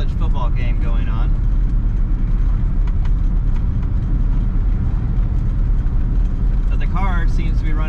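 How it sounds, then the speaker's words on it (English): A classic car that had been left sitting runs while driving, giving a steady, loud low rumble with constant road noise. Someone talks over it. "Car seems to be running great. It's driving straight. Engine sounds good."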